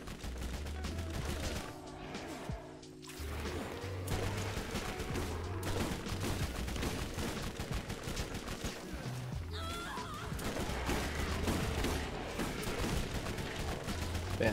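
Shotgun fire in the Borderlands video game, dense, continuous gunfire heard alongside game music and sound effects, loud throughout.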